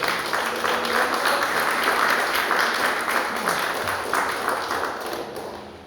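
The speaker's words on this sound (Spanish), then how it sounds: "Dale una fuerte ofrenda de palmas a nuestro Dios." A church congregation claps loudly and steadily for nearly six seconds in a continuous wash of applause offered to God, with faint voices mixed underneath.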